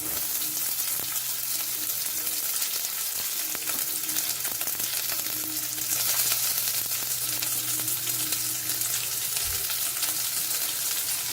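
Carrots and onions frying in a pan for veg chowmein, a loud continuous sizzle with occasional scraping stirs, steady throughout with no voices.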